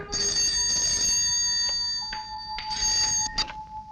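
A telephone rings with bright, repeating electronic tones in several short bursts, clear and close, with no talking.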